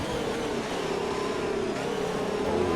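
A racing car engine in a racing video game drones steadily at high revs, holding a sustained mid-pitched roar through a turn with a slight rise near the end, loud and continuous with no talk.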